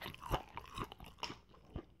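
Crunchy breaded Spam french fries are bitten and chewed close up, giving a few sharp, crisp crunches spaced irregularly over two seconds, quiet and with no talking.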